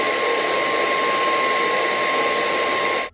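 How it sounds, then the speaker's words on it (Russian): An Atvel F35 stick vacuum cleaner runs close by at minimum speed, about 74 dB, with a steady, loud whining hum and airy rush, then switches off abruptly at the end. "На минимальных оборотах пылесос для сухой уборки выдает в пределах"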